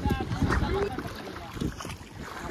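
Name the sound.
boat setting off on the water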